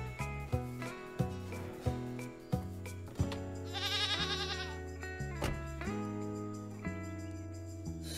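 Goats or sheep bleating in a Minecraft farm game, several short wavering bleats repeating over a steady game music background, with no talking.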